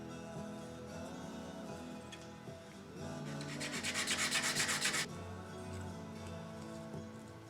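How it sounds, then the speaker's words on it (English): Wood hand-sanded with a sanding block on a model house truss, a steady scraping rub that swells into a rapid, rhythmic rasp of quick strokes midway, then settles back to slower rubbing. "it's easier if I do it with the sanding block."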